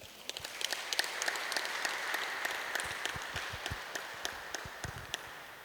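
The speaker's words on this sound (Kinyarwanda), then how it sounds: "Nagira ngo mbasabe muntize amashyi dushimire Padiri." Applause from a church audience thanking the priest after a sermon, a light scattering of claps over a soft crowd wash, moderately distant and fading toward the end.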